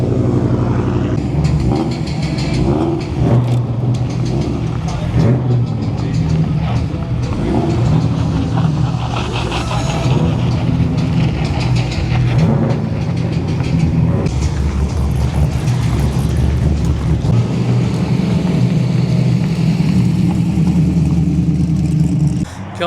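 Drift cars at the Drift X Calder event, engines revving and roaring continuously and loud as they slide sideways, a sustained throaty drone with surging pulls and a steady crowd-and-track wash behind.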